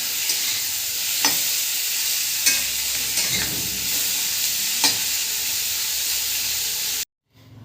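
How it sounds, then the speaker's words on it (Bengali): Prawns frying in hot oil, a loud, dense sizzle with spattering pops and a few stirring scrapes, cutting off abruptly near the end. "এবার আমি চিংড়ি মাছগুলো ভেজে নেব"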